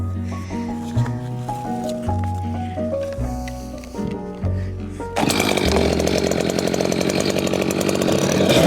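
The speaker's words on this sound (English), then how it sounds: "Chainsaws really hate to do a rip cut, you know, the traditional cross cut chain, so this is pretty hard on a chainsaw." A chainsaw with a standard cross-cut chain rips lengthwise through a dead, decaying tree trunk. Tonal sounds come first, then the saw cuts in with a loud, close, sustained roar for the rest of the clip.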